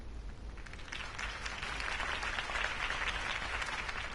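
Crowd applause in a Batman Telltale Series video game, a steady, dense wash of clapping from many people that holds evenly for several seconds without talk.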